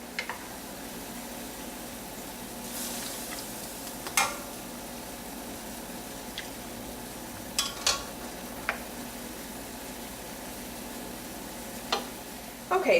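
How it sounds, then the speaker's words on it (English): Sherry sizzles and bubbles steadily as it reduces in a hot pan left from searing pork chops, with occasional sharp clinks of a utensil against the pan over the constant frying hiss. "we're going to let the sherry almost completely reduce away"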